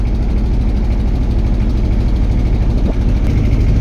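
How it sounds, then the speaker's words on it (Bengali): A family trawler boat running fast on the river, a loud, close, steady engine drone with a low throbbing rumble and no voices. "ওই দেখেন অনেক স্পিডে ট্রলার একটা আসতেছে, এটা তো ফ্যামিলি ট্রলার, অনেক স্পিডে আসতেছে।"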